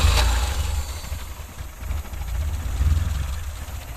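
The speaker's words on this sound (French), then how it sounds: "J'allume le moteur, bon maintenant tout est bien évidemment déréglé, donc ça broute" A car engine fitted with a badly adjusted Weber carburetor idles roughly, a low, uneven throbbing rumble that rises and dips in pulses throughout, close by, with no talk.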